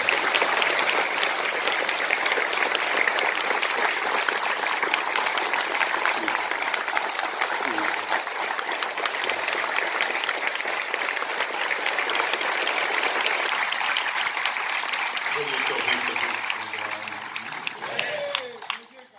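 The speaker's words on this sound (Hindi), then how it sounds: "खोलो अपने हाथ और परमात्मा की भक्ति में 30 सेकंड तक ताली हो" An audience at a devotional discourse claps together in sustained, dense applause that stays steady for a long stretch and then thins out and fades near the end.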